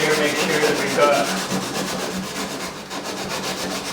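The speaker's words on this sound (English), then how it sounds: "first I'm just going to sand a little bit on the inside of the holes here" Steady hand sanding inside drilled holes to clean the surface before thickened epoxy, a continuous close scratchy rubbing with a slight back-and-forth rhythm.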